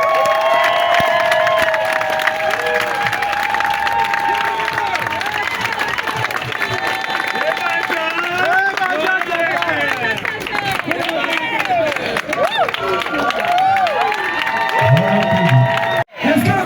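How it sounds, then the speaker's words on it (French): At an election campaign rally, a crowd cheers, shouts and applauds loudly and continuously, a dense wash of many voices and clapping that stays strong throughout. "Acclamation comme ça pour le choix du troisième arrondissement"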